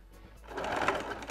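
Sewing machine running a straight stitch to join swimsuit cup pieces, a steady whirring burst that builds after a brief quiet start and runs close and alone.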